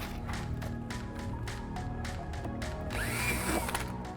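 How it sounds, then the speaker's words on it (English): Power drill boring a hole through a car side rocker on a C8 Stingray Z06, a steady whirring motor with rhythmic ratcheting clicks and a brief higher squeal near the end, close and continuous. "Once I drill the hole and I set the rivet"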